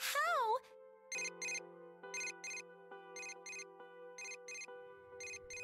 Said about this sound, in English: A familiar ringtone sounds from my cell phone inside my bag.